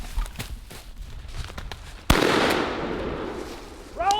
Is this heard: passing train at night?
no